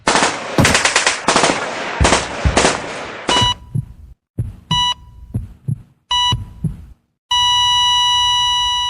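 Rapid bursts of automatic gunfire, loud and close, followed by sparse single shots with short gaps and a sustained high electronic tone at the end, with no talking.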